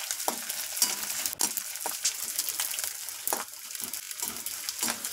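Methi laddoo ingredients fry in a pan with a steady crackling sizzle, broken by repeated spoon stirs and scrapes in close, moderately loud bursts, with no voices.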